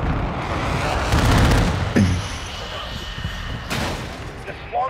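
AC-130 gunship cannon fire in Modern Warfare 2 comes as heavy, booming blasts amid game noise, with players talking over it throughout.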